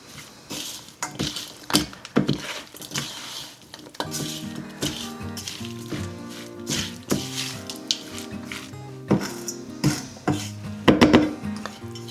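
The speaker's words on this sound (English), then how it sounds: "And then I'm just gonna kind of lightly stir this around." Gentle stirring of fruit with lemon zest in a bowl, soft scraping and clinking of a utensil against the dish in irregular strokes, close and moderately quiet, with no talk.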